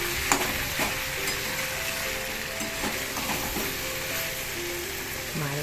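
Potatoes fry in a pan for lunch with a constant bright sizzle, while a spatula scrapes and knocks against the pan at irregular intervals, heard up close and without talk.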